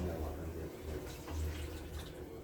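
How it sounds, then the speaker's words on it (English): Water poured into a pot of native ogbono soup, a soft, continuous splashing gurgle heard at low level with slight swells. "I'm going to add water."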